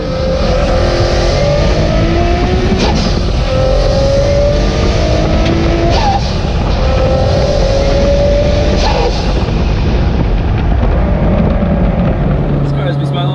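A rear-turbo widebody Nissan 350Z accelerating hard, its engine loud and close, pitch climbing through each gear with brief dips at the shifts, nonstop for over thirteen seconds.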